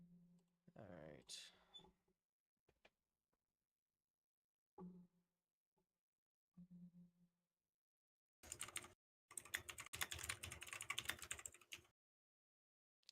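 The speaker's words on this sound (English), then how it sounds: "As we just hear keyboard typing sound effects in the background." Keyboard typing in the background while someone sets up a Roblox trolling GUI: a few scattered key clicks early on, then a dense, loud burst of rapid typing near the end, with some voice underneath.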